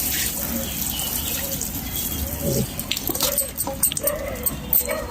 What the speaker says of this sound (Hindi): पाँच लीटर के करीब में मैंने पानी डाल दिया है।